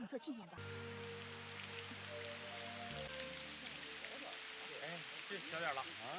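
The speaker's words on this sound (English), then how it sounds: "The rain gradually subsided" Steady rain falls as a soft, even hiss under sustained musical tones, with a voice speaking over it throughout.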